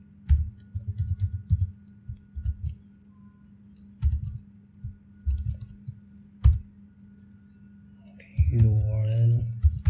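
Bursts of typing on a computer keyboard come in short uneven runs while code is written, with someone talking at the end.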